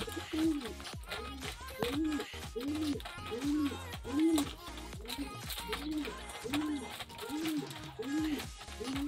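Fancy homing pigeons coo in a steady series of low, rolling calls, repeating about every second, close by while someone talks over them.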